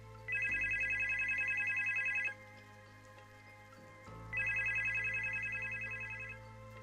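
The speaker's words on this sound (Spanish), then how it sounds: "sonó el teléfono." A telephone bell rings in two long bursts separated by a pause, clear and fairly close against a quiet low hum.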